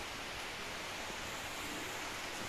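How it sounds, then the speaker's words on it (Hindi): Rain falls as a steady, even hiss, soft and continuous with no breaks, with no voices over it. "बारिश शुरू हुई यहाँ पे।"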